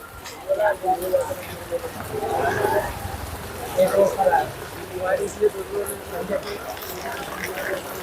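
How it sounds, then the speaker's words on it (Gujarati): Steady rain patters and hisses across a surface while muffled voices murmur now and then in the background. "હાલો આજે છે વરસાદ"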